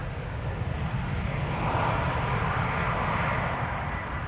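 An Embraer 190 departs Amsterdam Schiphol for London City, a steady loud jet roar that swells slightly in the middle, heard alone without talk.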